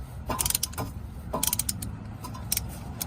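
A front brake caliper piston is pushed back and contracts, giving a series of close, sharp ratcheting clicks in short bursts over a low background hum.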